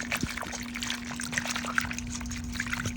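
Water trickles and sloshes steadily as shoelaces are dropped in to soak during a sneaker cleaning, a close continuous liquid sound over a faint steady hum.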